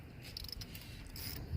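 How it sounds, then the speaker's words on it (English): A hand ratchet clicks in a rapid, steady run of close metallic ticks while loosening parts to pull a 4.8 turbo truck engine at a junkyard, fairly quiet with no talking. "Ratchet. That's the only way I pulled motors years ago."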